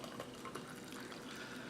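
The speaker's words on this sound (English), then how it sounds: "So we're just going to put some hot water in the glasses." Hot water from a Keurig machine pours steadily into glasses for Irish coffee, a continuous close, bright splashing gush with no talk.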